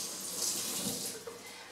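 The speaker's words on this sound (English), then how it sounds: "we are going to rinse our cloth with some cool water" Cool tap water runs steadily over a cloth being rinsed at a sink while cleaning a dishwasher, a continuous broadband splashing hiss with a small slosh near the end.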